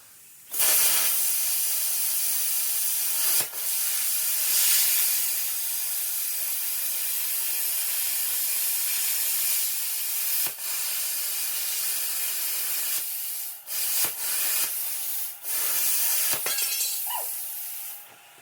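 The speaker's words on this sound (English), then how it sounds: "This one I am gonna chop with the plasma cutter" Plasma cutter slicing through a rusty truck rocker panel, a loud continuous hiss and roar that runs for long stretches with brief breaks and short restarts near the end.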